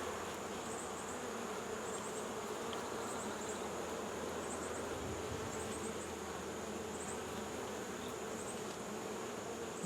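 Honey bees buzz over an open hive in a dense, continuous drone that holds steady and close throughout, with faint higher chirps over the swarm and no voices.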